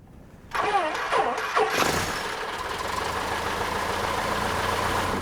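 A light tow plane's propeller engine cranks and catches for a glider launch in the Pyrenees Mountains, a few stuttering turns before settling into a steady, fairly loud running drone.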